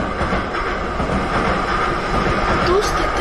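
In a horror video game, a train rolls past close by with a steady rumbling clatter of wheels on rails, while children talk over it.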